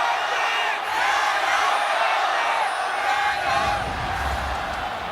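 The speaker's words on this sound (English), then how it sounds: "The capacity crowd. Both cheering for WE and RNG," A capacity crowd at a League of Legends LPL Spring finals between RNG and WE cheers and roars continuously, a dense, loud wash of voices sustained throughout the arena.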